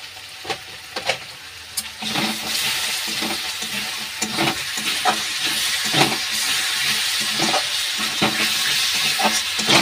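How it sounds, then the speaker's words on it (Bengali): Masala spiced with Kashmiri red chilli fries in a pan for butter paneer masala, with a loud steady sizzle and hiss broken by occasional scraping stirs. "ভালো করে আমি ভেজে নেব এটা।"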